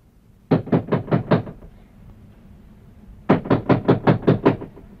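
Knocking on a door at night: two quick, loud, close bursts of raps, about five in the first run and about seven in the second, separated by a quiet pause, with no talking.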